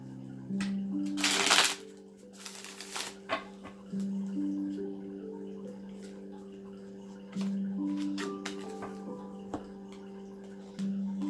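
Tarot cards shuffled by hand in a quiet room, giving two short bursts of riffling and flicking near the start, then soft scattered taps while a steady tone hums underneath.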